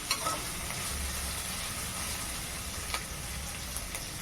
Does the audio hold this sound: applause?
no